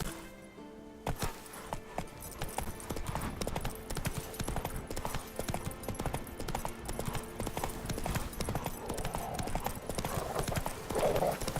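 Roach the horse trots in The Witcher 3 with steady clip-clopping hooves, near and continuous throughout, with occasional clinks and game ambience layered beneath.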